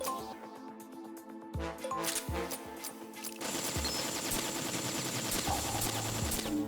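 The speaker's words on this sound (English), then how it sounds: "We could just fire the XM8 up as bullets." Rapid automatic XM8 rifle fire from Metal Gear Acid, starting as clipped separate bursts and then swelling into a dense, continuous volley of gunfire with metallic rattles, fairly loud throughout.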